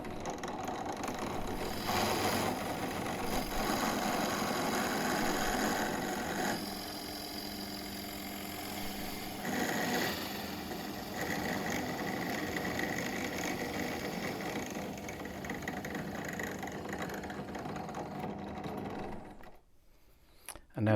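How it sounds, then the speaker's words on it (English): A drill bores the tuning-peg holes in a handmade guitar's headstock with a continuous, steady mechanical whirr that shifts slightly in pitch, then cuts out abruptly near the end. "It's time to drill the holes for the tuning pegs."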